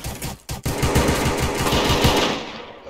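Pistol fire in the video game Counter-Strike: Global Offensive, loud rapid bursts of shots running almost continuously after a brief gap.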